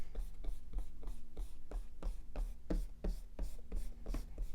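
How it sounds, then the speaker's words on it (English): A pencil eraser rubs rapidly back and forth over paper to remove compass markings, a steady scratchy scrubbing rhythm close up. "So I'm going to do my best to now erase these markings so they don't come up"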